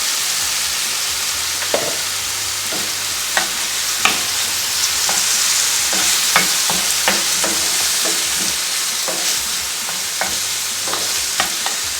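Turmeric powder stirred into hot oil in a pan while cooking poha, a steady broad sizzle with frequent spoon scrapes and clinks against the pan throughout, close and fairly loud, no talking.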